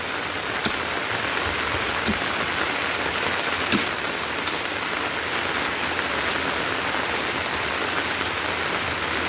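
Steady outdoor rain forms an even, dense hiss throughout, broken by a few faint, scattered ticks.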